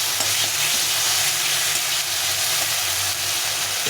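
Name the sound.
frying green chili and ginger paste while stirring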